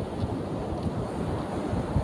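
Big surf washing up onto a sandy beach, a steady loud roar of churning water with heavy wind buffeting the microphone throughout, no voices.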